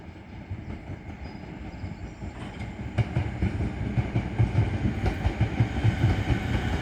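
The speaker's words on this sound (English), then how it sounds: "approaching now is the delayed 1013 Southeastern service from London Charing Cross to Tonbridge Wells" A Southeastern class 465 electric train approaches Tonbridge station on a delayed London Charing Cross to Tunbridge Wells service, its steady rumble building, with rhythmic wheel clatter growing louder and nearer.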